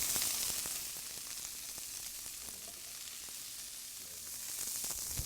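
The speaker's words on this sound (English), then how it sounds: "I'm going to finish sauteing these till the 4 minutes is up" Sugar snap peas and onion sauté in a hot pan, giving a steady, close sizzle and hiss that swells slightly at the start and end, with faint stirring and no talk.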